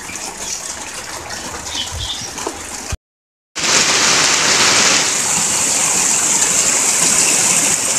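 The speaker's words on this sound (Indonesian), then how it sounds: "udah mulai hujan, udah mulai" Heavy rain starts falling outdoors in a garden, a steady loud broadband hiss that drops out briefly and then returns even stronger and denser, continuous to the end, with no talking.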